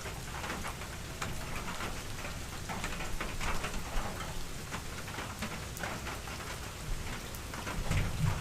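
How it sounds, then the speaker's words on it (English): Steady rain pours down during a hurricane, a dense continuous hiss of drops pattering on surfaces close by, with no voices and a few slightly louder gusts near the end. "Raining again."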